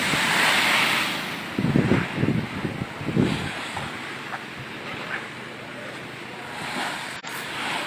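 Steady roar of high surf and wind at a fishing port pier, with a few louder wave surges breaking nearby; no one speaks.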